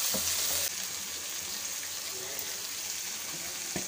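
Chicken pieces browning with onions and yogurt liquid in a karahi for chicken tikka karahi, giving a loud, steady hissing sizzle close up, with a few faint stirring clicks and no talking.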